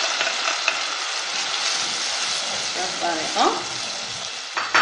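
Grated tomatoes stirred into a hot pan for a tagine pizza, giving a steady close sizzle and frying hiss with soft scraping stirs, a brief voice speaking near the end.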